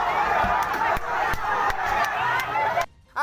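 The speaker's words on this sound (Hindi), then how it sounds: "उन्होंने पुलिस की गाड़ी को ही घेर लिया और कुछ लोग उस पर हंगामा करते हुए भी देखे गए" An angry crowd mobs a police car, raising a loud, chaotic roar of shouting voices that runs steadily before dropping away abruptly near the end, followed by a short rising tone.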